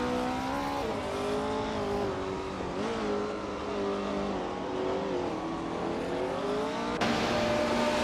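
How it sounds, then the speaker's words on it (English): A 1969 Porsche 908/2 Spider race car screams along in a racing video game, its engine droning at a high pitch with gear shifts and pitch dips, loud and continuous throughout. "Platneu Mera is driving a 1969 Porsche 9082 Spider."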